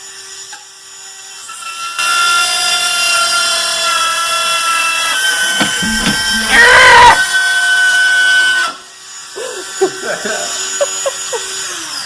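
A Ryobi 18V drill with a side-cutting bit chews through thin wood, a harsh high whining screech with strong pitched overtones that rises in intensity midway and stops abruptly, followed by brief clatter and someone speaking.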